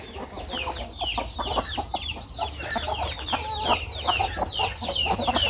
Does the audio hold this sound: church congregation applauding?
no